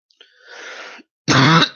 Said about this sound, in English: After cold coughs suck.